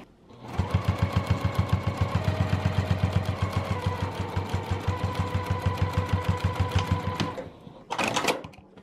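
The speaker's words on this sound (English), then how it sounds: "I can go ahead and keep stitching right along here." A sewing machine stitches a seam on a vinyl pouch with a fast, even mechanical chatter for about seven seconds, then stops, followed by a brief final burst of stitching.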